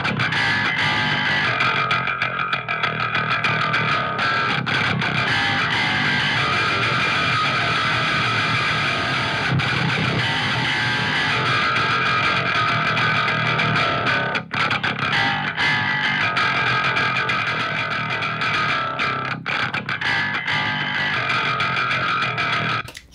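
Dense, saturated distorted sound from a Neural DSP Parallax distortion plugin, high band, playing continuously and loudly throughout, with a gritty, bright upper edge and no talking.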